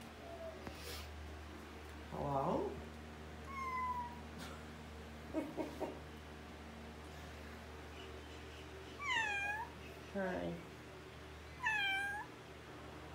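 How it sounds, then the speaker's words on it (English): The resident cat of an Airbnb in Bacalar meows five times in a quiet room, short and fairly close, spaced out by pauses, with a person briefly greeting it. "This is the resident cat of the Airbnb."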